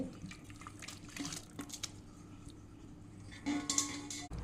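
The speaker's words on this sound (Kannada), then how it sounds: "ಇಲ್ಲಿ ಒಂದು ಬಿಳಿ ಬಟ್ಟೆಯನ್ನು ತಗೊಂಡಿದ್ದೇನೆ ಅದಕ್ಕೆ ಹಾಕ್ತೇನೆ" Hot whey from about two liters of curdled milk poured through a white cloth to strain fresh paneer, a soft running, splashing pour with light drips, fairly quiet and steady, swelling louder near the end.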